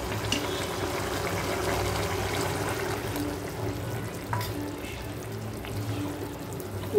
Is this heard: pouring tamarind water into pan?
yes